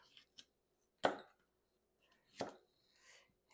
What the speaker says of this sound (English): Fennel bulb. I'm going to cut it in half,